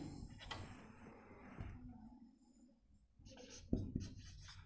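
Pen writing on paper during a handwritten Class 9 maths lesson on cyclic quadrilaterals, with close, continuous scratchy strokes and a few louder taps near the end, no talking over it.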